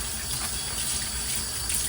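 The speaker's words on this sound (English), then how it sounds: "Make sure we rinse it really good in hot water." Hot water runs steadily from a kitchen tap into a sink while a basin is rinsed, a loud unbroken gushing splash close by with no voices.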